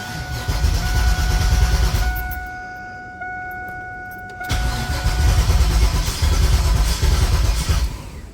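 A cammed LT1 V8 in a 1996 Camaro cranks loudly and steadily for about two seconds, pauses in near quiet, then cranks again in a long run, each burst a dense close rumble with no voices.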